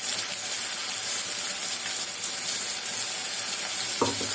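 Onions sautéing in a pan for a fish curry give a steady, even sizzle throughout, with a brief clatter of stirring near the end and no voices.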